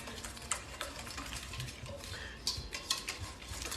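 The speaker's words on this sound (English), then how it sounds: "we're going to go ahead and stir to combine all this" A spoon stirs salt, pepper and other ingredients together in a bowl, giving quiet scraping and a few sharp clinks against its sides, close but faint.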